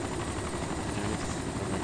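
A video game helicopter drones continuously, its rotor chop and engine roar steady and loud throughout, with no talking over it.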